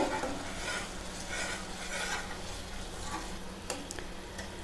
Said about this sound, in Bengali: সেই পেস্টটা মিশিয়ে নেব তেলের সঙ্গে। ভালোভাবে মিশিয়ে 2 মিনিট কষে নেব।